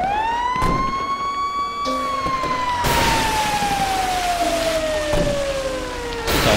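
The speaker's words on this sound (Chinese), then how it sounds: "消防车。" A fire truck siren wails in the GTA 5 video game, a loud close tone that rises and then slowly glides downward, with a few thumps and bursts of noise around it.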